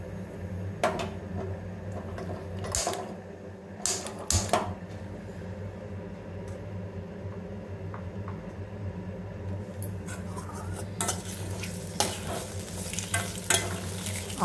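Coriander stems fry in oil in a pan, a steady close sizzle mixed with repeated stirring scrapes and occasional utensil knocks, with no voices.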